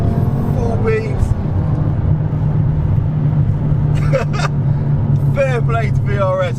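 Steady in-cabin engine and road drone from a BMW M5 being driven, a bought-cheap car with faults, holding a constant low hum throughout while people talk over it.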